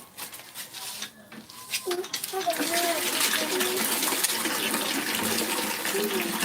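Water gushes from a hand pump, rising after a few seconds into a steady, loud rushing pour that fills the rest of the clip, with faint background noise and possible voices early on.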